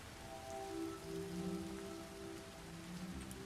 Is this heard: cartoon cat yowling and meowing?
no